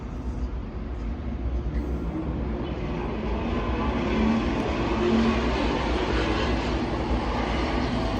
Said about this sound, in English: Hear that loud ass car?